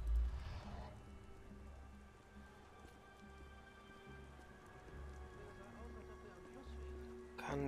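Steady rain falling in the video game Beyond: Two Souls, a soft continuous patter of drops on surfaces with a low hum beneath and a brief louder burst at the start and end.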